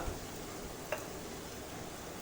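Sliced onion frying in hot oil in a non-stick pan, a faint steady sizzle with one small clink of a utensil partway through.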